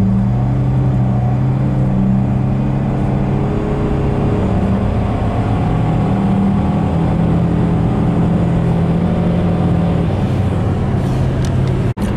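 A Nissan Altima with a faulty transmission drones and whines steadily as it accelerates, the engine note rising and holding under load, loud and close from inside the car for the full stretch with no talking.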